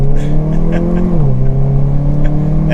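A 2022 Hyundai Kona N launching under launch control, its engine droning loud and steady from inside the cabin, pitch holding then dipping slightly as it shifts, continuous and close.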